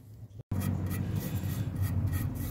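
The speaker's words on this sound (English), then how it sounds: "see if we can get the wire brush on." A wire brush scrubs hard against rusty bolts in a steady, rasping rub that runs continuously and close after a brief gap at the start.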